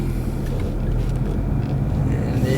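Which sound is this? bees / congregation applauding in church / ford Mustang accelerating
ford Mustang accelerating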